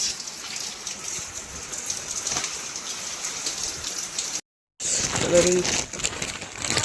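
Steady rain patters and hisses throughout, with a brief cut-out midway before the downpour resumes, and voices faintly mixed in.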